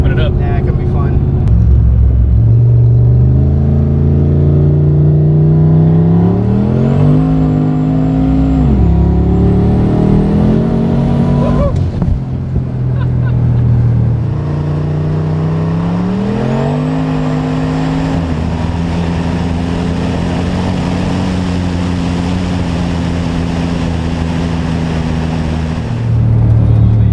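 A 1300 hp Fox Body Mustang with its exhaust cutout open, revving loudly up close: a deep, raw engine drone climbs and falls in pitch through several rev sweeps, then settles into a steady high hum.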